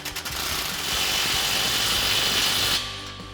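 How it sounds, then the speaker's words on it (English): A 15mm socket on a swivel and extension turns an exhaust clamp tight on a Magnaflow Street Series system for a 2022-2024 Toyota Tundra, giving a steady close whirring drone for nearly three seconds before cutting off. "We're gonna tighten that down with our 15mm socket."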